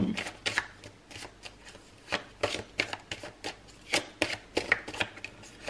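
Tarot cards are shuffled by hand in a run of crisp riffling bursts, close up and fairly quiet, with brief pauses between shuffles.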